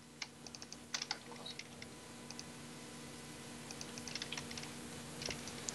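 Computer keyboard typing during a Minecraft survival island game, with scattered clicks and short bursts of keystrokes at low level over a steady background hum, no talk.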